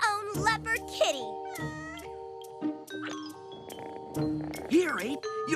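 Several cartoon meows from a leopard kitty, bright pitched cries with rising and falling sweeps, spread across the clip in short bursts between voices talking, with a chime-like ding mixed in.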